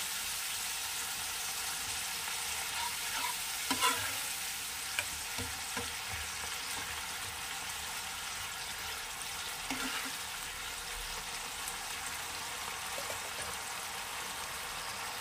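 Water poured into a Bengali bhola fish curry already frying in a pan, giving a constant close sizzle with a few brief clinks and stirring scrapes, no voices.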